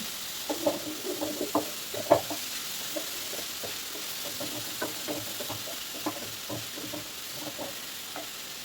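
Chili spice mixture being stirred in a hot pan, with soft repeated scraping strokes and light knocks over a steady sizzling hiss, fairly close and moderate in level, no voices.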